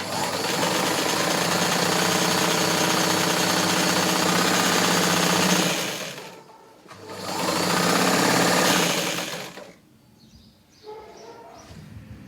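Sewing machine stitching in a steady loud whir, running for several seconds, pausing briefly, then starting again before stopping near the end.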